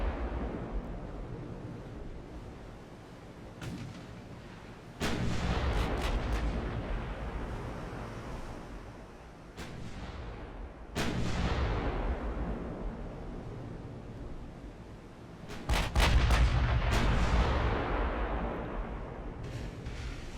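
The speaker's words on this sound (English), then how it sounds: "They're starting to open fire, so we must have been outside of their range, which is why they weren't shooting at us." Naval gunfire in the warship battle game Ultimate Admiral Dreadnoughts: three or four heavy booming salvos, spaced several seconds apart, each a sharp blast trailing off into a long rumbling decay over steady background noise.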